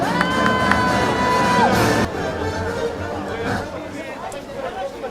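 A large outdoor crowd at a rally protesting election fraud cheers and whoops loudly for about two seconds, then a dense babble of voices and scattered shouts carries on at a lower level.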